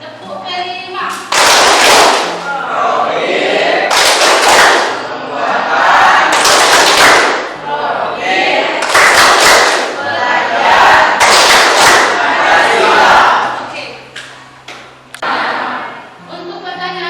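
A school class claps through a rhythmic clapping routine in bursts of loud, synchronized claps and shouts, separated by short pauses, with voices calling out between rounds.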